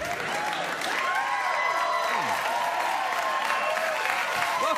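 Studio audience applause on a late-night talk show, sustained clapping and crowd noise at moderate level with a voice talking over it.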